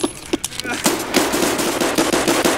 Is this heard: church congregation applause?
no